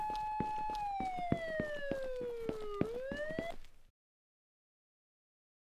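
Police siren in the horror game Akai Onna, a loud continuous electronic wail sliding gradually downward then rising, with a rhythmic pulsing under it, cutting off abruptly into silence.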